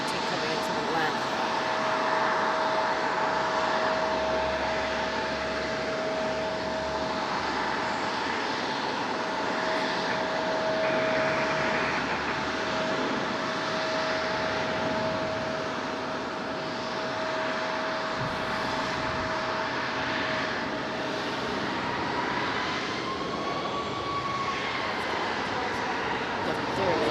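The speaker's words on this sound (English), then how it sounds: "Next arrival is 737-900, flight 1518 coming into the landing." A Boeing 737-900 airliner on approach to land at Raleigh-Durham International Airport, its engine roar a steady, fairly loud drone with a sustained tonal whine throughout, heard outdoors.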